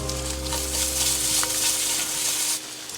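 Noodles fry outdoors with a bright, continuous sizzle and hiss alongside a low background hum. The sizzle stays close and fairly loud, then eases slightly near the end, with no voices.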